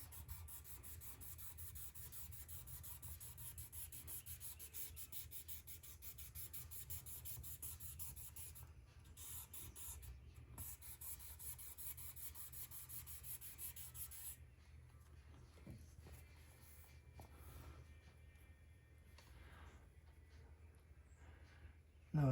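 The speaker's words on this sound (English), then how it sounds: "I'm using just a little bit of pressure, just enough to let the sandpaper do its work." Sandpaper rubbed by hand with light pressure over a surface during cut-and-buff finishing, a soft continuous scratching that is faint and steady, with a short pause near the end.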